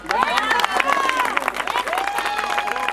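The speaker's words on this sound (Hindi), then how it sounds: "क्या परफॉर्मेंस है, एक बार जोरदार ताली।" Audience applause and cheering from guests at a sangeet wedding celebration after a dance performance, a dense continuous crowd of clapping with voices mixed in throughout.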